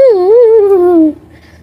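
A cat meows once in complaint, a loud, drawn-out, wavering cry close by that fades after about a second.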